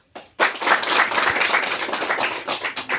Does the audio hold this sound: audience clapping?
yes